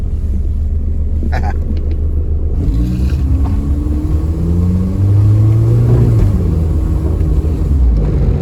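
A Mitsubishi Eclipse engine rumbles steadily and loudly from inside the car during a manual transmission test, with the pitch rising and shifting as it accelerates through the gears.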